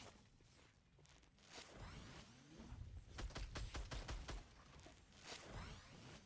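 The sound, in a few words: gunfire in a video game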